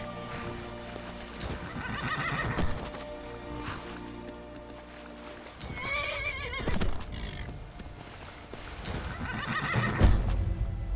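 A horse in the Skyrim video game whinnies several times with loud, close neighs, spaced apart between soft hoof clops and shuffling movement.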